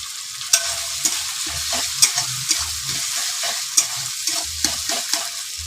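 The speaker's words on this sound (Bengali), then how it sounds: "আদাটা ভেজে নেবে।" Ginger frying in a pan with tomato, onion and garlic, a soft steady sizzle broken by close spoon scrapes and taps at an even pace.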